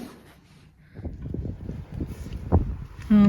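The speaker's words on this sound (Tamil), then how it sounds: "இப்போ பார்த்தீங்கன்னா ரொம்ப விண்டியாக இருக்குது" Steady gusty wind buffeting the microphone, a low rumbling roar that swells and fades, with a brief louder burst near the end.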